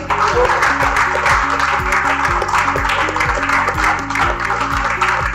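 Audience applause fills the space, dense and steady for several seconds, with music playing underneath.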